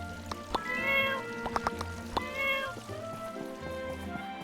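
Cat meowing in the farming game Town of Portia: several clear, close meows spread across the clip over a faint background bed, with no talking.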